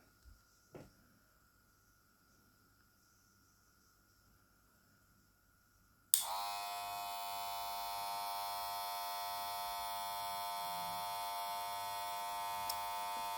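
A VGR V276 hair clipper switches on partway through and runs with a loud, steady electric buzz until the end, after quiet room sounds and a couple of faint knocks.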